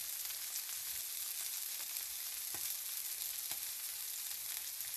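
Parmesan crusted chicken frying in oil, a steady bright sizzle with faint crackles and pops, quiet and continuous throughout with no voices.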